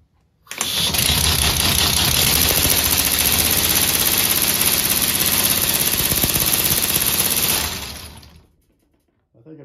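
An air-powered six-cylinder car engine runs for about seven seconds, a loud, close, dense rapid chugging and hissing, then cuts out and fades to near silence.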